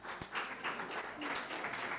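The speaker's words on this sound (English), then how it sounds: "you clap your hands" A crowd at a college academic opening claps in a soft, steady patter that stays fairly quiet and distant, with a couple of sharper claps standing out near the start.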